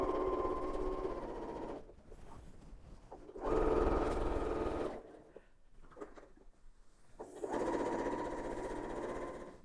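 A sewing machine top stitches the two long edges of a quilted fabric bow with a quarter-inch seam allowance, running in three steady humming bursts separated by short quiet pauses.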